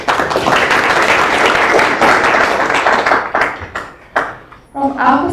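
A crowd at a data protection conference applauds loudly and steadily for several seconds, the clapping thinning out toward the end as a voice begins to speak.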